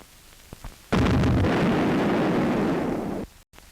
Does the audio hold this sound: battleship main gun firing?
yes